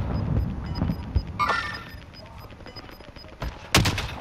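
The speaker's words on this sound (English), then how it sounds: "Engaging shooting." Gunfire in the video game Call of Duty: Modern Warfare, a few sharp shots and short bursts standing out from quieter in-game background noise.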